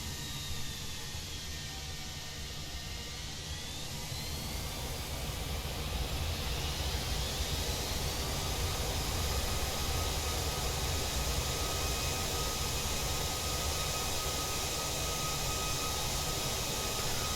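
Continuous loud jet engine roar with a dense, rushing hiss that holds steady throughout, from engines spooled up for reverse thrust on the Fenix A320 in Microsoft Flight Simulator 2020.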